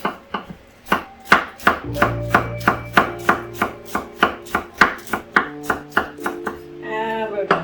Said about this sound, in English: we're gonna go ahead and just chop some nice fine pieces here